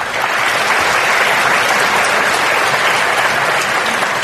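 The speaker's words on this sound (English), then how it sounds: "that's the first question to get a spontaneous round of applause" A festival Q&A audience at the Melbourne Writers Festival breaks into loud, sustained applause, a dense wash of many hands clapping that fills the room evenly from start to finish.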